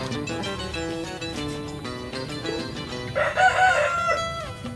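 Young layer cross hens under five months old call from a backyard coop, with tonal, drawn-out cackling and crowing-like cries that swell louder near the end against a steady background.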